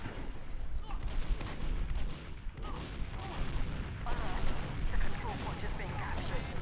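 Dense Team Fortress 2 combat from a Demoman on the Gullywash map, with rapid gunfire bursts and booming explosions piling up continuously and loud throughout.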